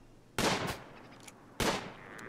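Two sharp gunshot blasts, each with a short ringing tail, fired at a giant sloth in the colony-sim game Rimworld, separated by about a second of quiet.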